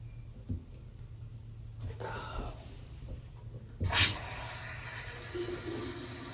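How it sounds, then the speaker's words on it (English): A bathroom tap turned on after fitting a cover, water bursting out midway and then running steadily with a bright rushing hiss, preceded by quieter handling clicks and faint background sounds. "Now we're going to turn the water on."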